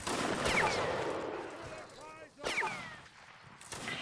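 Gunfire volley from a charge in a line battle video game, a distant crackle of musket shots rolling together under quiet voices, with a few sharp separate reports.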